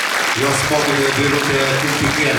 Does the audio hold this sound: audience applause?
yes